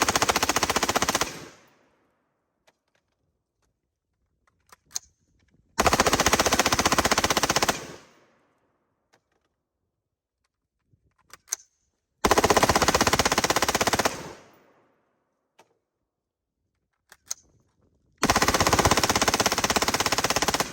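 A Colt Commando rifle rips off four long full-auto bursts, each about two seconds, loud and close, separated by quiet gaps broken by a few faint clicks and single knocks.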